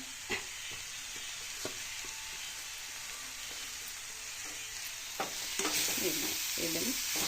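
Ground chana dal sizzles in an oily pan for a Kannada-style dal palya while a spoon stirs and scrapes it, with steady frying noise and a few close scraping strokes, no talk.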